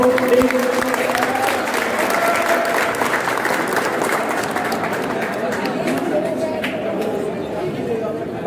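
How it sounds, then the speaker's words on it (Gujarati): An audience applauds steadily for a guest at a prize distribution event for a science-centre tech competition. The clapping is dense and sustained, fading slightly toward the end, with some chatter beneath it. "તાળીઓથી આપણે એમને વધાવી દઈશું"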